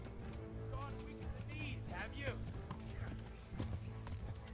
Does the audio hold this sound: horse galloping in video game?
yes